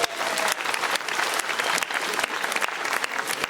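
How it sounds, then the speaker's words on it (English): A studio audience claps for the judges at a televised stand-up comedy final, steady full applause with no voices. "Thanks to our judges. Give them a round of applause."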